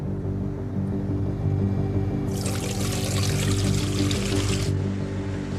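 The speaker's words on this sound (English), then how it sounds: "The solution to get us through the day is to just keep adding water to it." Water being poured onto the overheating brakes of a logging yarder, a rushing, splashing pour that starts suddenly, runs for a couple of seconds and stops, over a steady low engine drone.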